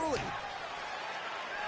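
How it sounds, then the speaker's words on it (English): In a pro wrestling match, a heavy slam thuds once near the start as one wrestler drives his opponent's face down, followed by a loud arena roar with voices underneath. "Goldberg slams Sabu's face."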